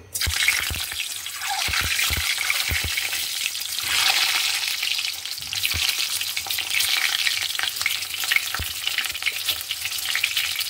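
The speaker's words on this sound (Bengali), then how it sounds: "আমি এখন ডিম রান্না করব, ডিম ভুনা করব।" Eggs frying in a pan for Bangladeshi dim bhuna sizzle continuously, broken by sharp clinks and scrapes of a utensil stirring against the pan, close and fairly loud with no talking.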